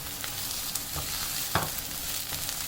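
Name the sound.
onion and garlic sautéing in oil for samosa filling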